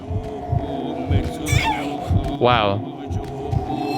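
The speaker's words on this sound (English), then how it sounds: "Why can you hear my heartbeat all of a sudden?" Steady low heartbeat thumps keep pulsing through the Kuon horror game over a droning hum, while a man exclaims briefly midway and a sweeping, wavering tone rises and falls above the beat.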